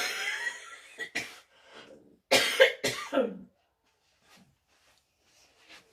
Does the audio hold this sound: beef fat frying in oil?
no